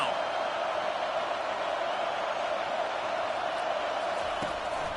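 A dense, steady stadium crowd roar in the NCAA 25 college football game, BYU against Utah on third down, holding at an even level throughout, with commentary heard over it.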